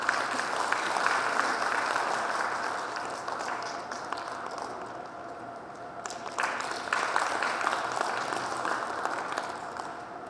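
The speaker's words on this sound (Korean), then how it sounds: "축사를 해주신 현32대 총연합회 회장이신 김영민 회장님께 다시 한번 뜨거운 박수 부탁드립니다" Hall audience applauding a congratulatory speech at a Korean hometown association's president inauguration ceremony, a steady, fairly loud wash of clapping that runs throughout with a brief dip midway, no talk.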